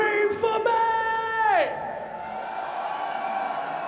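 A heavy metal festival crowd at Wacken Open Air 2014 roars and cheers. A long, loud yelled note bends downward and cuts off, and a steady wash of distant crowd noise carries on afterward.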